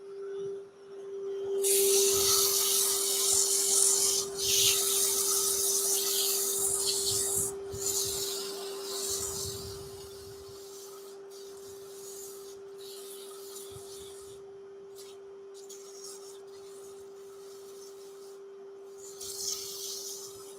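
A wooden bowl is sanded with fresh 120 grit abrasive on a lathe, a loud continuous rubbing rasp over a steady motor hum, then quieter patchy rubbing as the sanding eases off.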